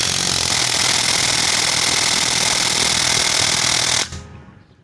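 A Makita XWT17 cordless impact wrench hammers continuously at close range for about four seconds, driving a nut down onto a stud, then stops abruptly and the sound decays.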